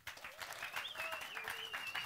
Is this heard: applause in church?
yes